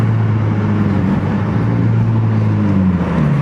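Toyota GR86 with a Tomei exhaust driving along, a loud steady droning engine and exhaust note with a low hum that rises slightly in pitch toward the end, heard from inside the car.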